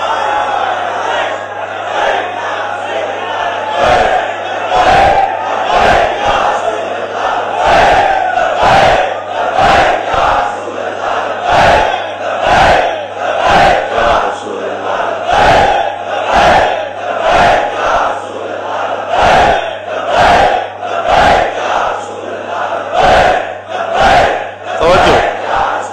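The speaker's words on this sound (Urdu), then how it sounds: "اے جڑے تسی نعرے لا رہے ہو" A large crowd at a religious gathering chants slogans in loud, rhythmic unison, with regular surging call-and-response bursts roughly every second over a constant hum, continuing steadily throughout.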